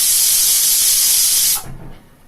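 A pressure cooker with carrots inside releases a loud, close, steady hiss of steam that cuts off abruptly, leaving only faint background sound.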